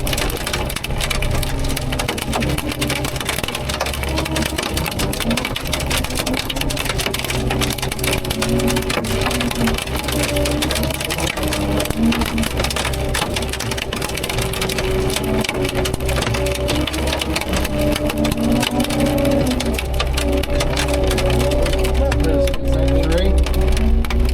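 Heavy storm rain pounds steadily on a surface in a dense, loud, unbroken patter, with faint background voices and tonal sounds mixed underneath.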